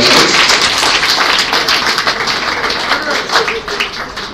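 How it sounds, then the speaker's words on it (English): Wedding reception guests give the evening's speakers a loud round of applause, a sustained crowd clapping close by that swells and ebbs over a few seconds, with some voices mixed in. "one more round of applause for all of our speakers this evening"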